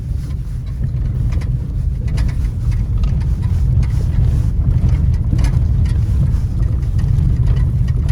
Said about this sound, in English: I'm thinking our muffler repair is doing pretty good here.